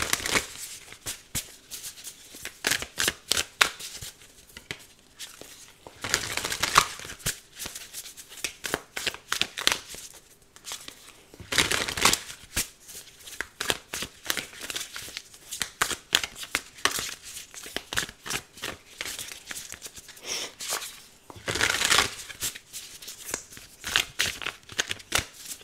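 Tarot cards shuffled by hand in repeated bursts of crisp riffling and flicking, close and fairly quiet, with short pauses between rounds and no talking.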